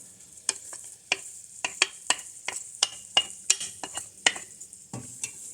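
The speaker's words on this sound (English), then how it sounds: "I am adding in the red pepper and the green pepper." Red and green bell peppers sizzle and crackle in a hot pot, with a spatula scraping and clinking against the pot in quick, irregular strokes, close and fairly quiet.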